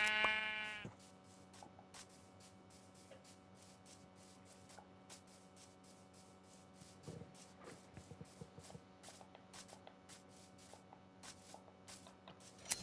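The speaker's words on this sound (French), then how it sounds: "on est là, on tond des moutons tranquillement" Sheep being sheared in the Minecraft video game: a brief opening burst gives way to a run of short, crisp shearing clicks and soft bleats over steady game music, with no talking.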